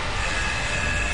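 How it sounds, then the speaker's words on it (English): A steady, loud mechanical rumble with a high metallic whine over it, a damaged tram being pulled off its track in the video game Dead Space, continuous throughout. "Once it pulls the old, damaged tram off the track, it can get very loud."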